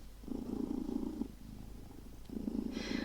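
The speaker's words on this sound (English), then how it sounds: "sitting on my lap, purring and being adorable, and trying to get attention out of me and purring even louder" Close, soft cat purring in rhythmic rumbling waves, pausing briefly before resuming, with no talking.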